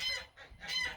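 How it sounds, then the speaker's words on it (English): Pet geese honking in a spring garden, two loud harsh calls close by separated by a brief pause. "Yes, I love my geese, but he can be sure annoying."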